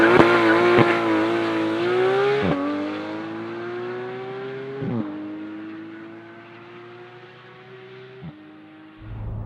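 A Porsche 911 GT3 of the 991 generation drives along, its engine note climbing through the revs in smooth pulls broken by brief dips at each gear change, loud and close, with a whirring tone over the drone.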